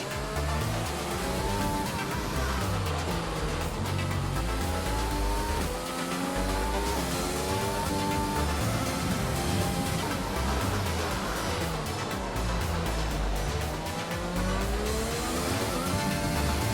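Formula One race car engine from the F1 2020 video game screams through a qualifying lap at the Canadian Grand Prix, continuous loud revving with rising and falling pitch as gears shift, tires squealing briefly, no talk.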